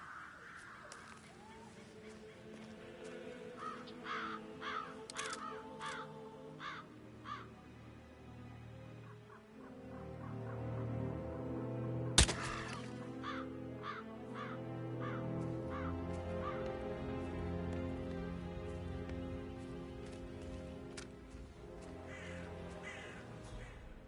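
Crows caw in the Hitman 3 video game, repeated harsh calls in irregular bursts over a low ambient game soundtrack, with a sharp impact partway through.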